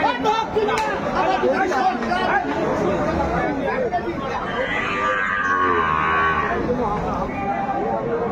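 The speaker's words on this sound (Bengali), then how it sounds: "শাহিওয়াল থেকে গাভী বাছুর আমরা দেখছিলাম।" Cows and calves with Sahiwal breeding low at the Aftabganj cattle market, several loud moos rising over a constant babble of nearby voices, with people talking close by.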